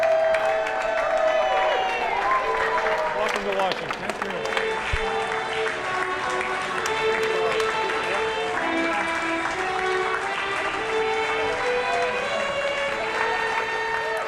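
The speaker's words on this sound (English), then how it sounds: "The crowd that meets the veterans at Dulles is overwhelming." A large crowd at Dulles airport welcomes returning veterans on an honor flight with sustained applause, clapping and cheering that fills the whole stretch, while voices call out greetings over the din.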